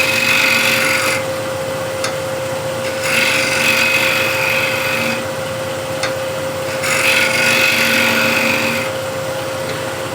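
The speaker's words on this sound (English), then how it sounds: "Again, square and scraper, and I'll get a little dome on the inside." A square scraper on a wood lathe shapes a small dome inside a hexagon plate, giving a steady rasping scrape over a constant motor hum that swells and eases in slow cycles, close and loud.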